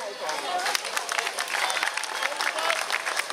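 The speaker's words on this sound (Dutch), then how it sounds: "Mag daar ook een applaus voor." An audience at the fourth Molenhoeks Makkie event in 2013 breaks into lively, continuous applause, many hands clapping in a dense patter with some crowd murmur mixed in.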